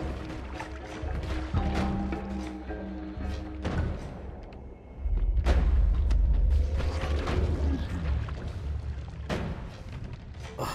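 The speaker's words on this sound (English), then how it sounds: "Oh, so many explosions." Repeated explosions burst in the pixel-based wizard game Noita, heavy booming blasts with crashing debris rolling on and off, sharp cracks scattered throughout and a deep sustained rumble in the middle stretch.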